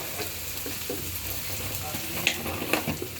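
Steady broadband sizzle of food frying in a hot wok (kadai), with a few sharper crackles and stirring scrapes near the end; close and continuous, with no talking.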